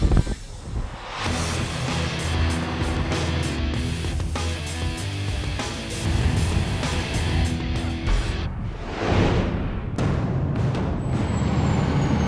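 A truck's back end breaks loose and drifts across wet pavement as its axles swing around, giving a sustained loud engine drone with tire noise and brief hissing bursts, nearby and continuous.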